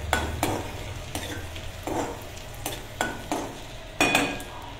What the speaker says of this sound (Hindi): फ्लेम स्लो गैस पे मैं गार्लिक और जिंजर की पेस्ट को भूनना है